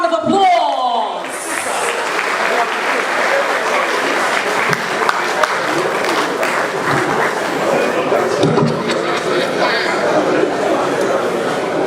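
A conference hall audience at an Urhobo/Isoko meeting breaks into steady, dense applause that carries on evenly throughout, with faint crowd chatter mixed into the clapping.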